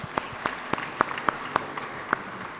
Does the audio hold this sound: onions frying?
no